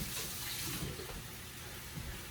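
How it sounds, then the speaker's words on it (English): Hands rinsed under a running kitchen tap: a steady, close hiss of flowing water with faint splashing, alone without talk. "I'm going to rinse my hands again."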